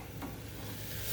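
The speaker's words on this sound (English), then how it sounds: "Oh yeah, listen to that sizzle, folks." Fajita steak sizzling in a hot pan, a steady close hiss with a low rumble, continuous and alone with no talking.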